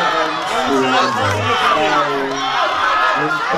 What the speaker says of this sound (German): Applaus! Hier geht was ab!